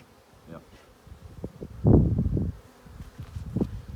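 Low honey bee buzzing hums close by around a hive, swelling into a louder burst midway, with faint rustling and handling noises around it.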